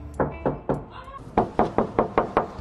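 Knocking on a door: two bursts of firm, evenly spaced raps, three then six, close and loud with a short pause between the groups.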